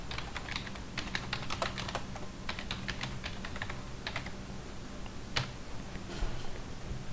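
Steady, dense typing on a computer keyboard to enter content, close and continuous clicking with a few sharper keystrokes standing out along the way.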